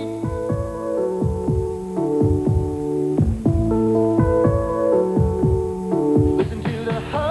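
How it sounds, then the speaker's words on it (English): A deep, slow throbbing heartbeat effect pulses steadily under swelling tonal music in a Chevy truck commercial, loud and up front with no talking. "Listen to the heartbeat of America."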